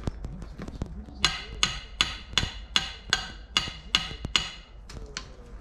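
A hammer striking repeatedly: after a few scattered taps, about nine sharp, evenly spaced blows ring out in a steady rhythm, close and clear over a quiet background with no talking.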